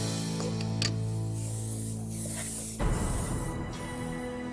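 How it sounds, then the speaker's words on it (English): An airbrush sprays black paint onto a spider-shaped cake in a steady hiss that shifts partway through into a louder, rougher spray, close up with no talking. "I get the spider airbrush black."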